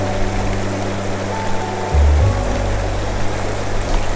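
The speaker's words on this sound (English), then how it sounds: "Nice, nice, nice deep hole under the waterfall." A stream pours steadily into a deep pool beneath a waterfall, a constant close rushing wash of water with a low rumbling surge midway.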